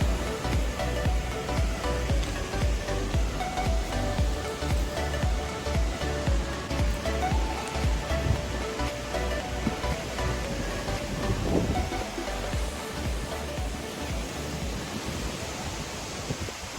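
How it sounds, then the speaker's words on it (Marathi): Strong wind roars across a hilltop fort at night, and trees toss in the gusts. The broad rushing noise runs on loud and unbroken, with no voices. "बघताय तुम्ही वारा ती अजूनही खूप जोरात वारा आहे इकडे पूर्ण झाडं वगैरे हलत"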